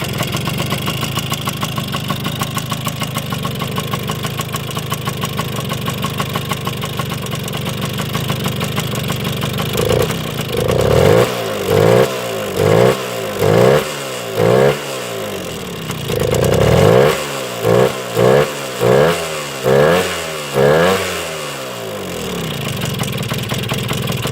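A Suzuki TS125 motorcycle with a worn carburetor and a faulty choke idles roughly and steadily up close, then bursts into a string of short, rhythmic throttle blips with a brief pause in the middle. No one speaks.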